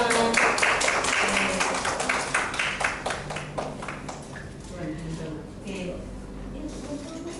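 Participants at a school dissemination session on positive culture break into applause, a dense roomful of hands clapping loudly at first, then thinning and fading over several seconds with voices mixed in.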